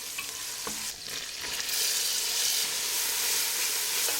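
Pancetta sizzles in olive oil in a large sauce pot, a steady, loud crackling hiss close up that grows slightly stronger as it is stirred.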